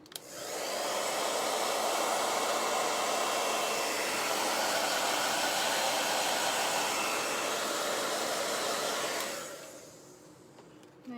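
Hair dryer blowing on chalk paste spread over a craft transfer for holiday tree farm decor, a steady loud roar for about nine seconds before cutting off, with no talking.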